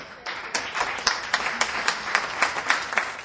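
Applause for a family at a city council meeting in Baldwin Park, a modest room of hands clapping with distinct individual claps standing out, starting softly and holding steady for a few seconds.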